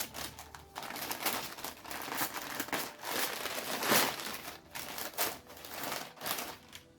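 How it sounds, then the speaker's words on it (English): Wrapping paper being torn open on a gift, crinkling and crackling in dense, continuous bursts close by, with no talking. "crinkling wrapping paper happening"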